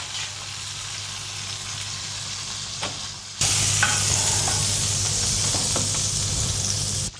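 Butter tossed into a hot pan sizzles, starting as a moderate hiss and jumping to a loud, steady crackling sizzle midway as more butter hits the pan, continuing strongly to the end.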